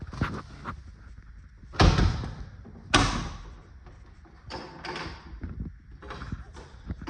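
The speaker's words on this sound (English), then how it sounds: "I think this door here might not be closing in all the way" A door swung shut and latched, with two solid thuds a second apart and lighter knocks and rattles of the latch and cable around them, close by with no voices.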